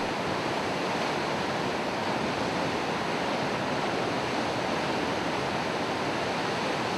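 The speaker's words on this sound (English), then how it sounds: "we can see beautiful waterfall in Upside Hill" A waterfall on a hillside above Tal village in Nepal roars with steady, dense rushing water, loud and unbroken throughout.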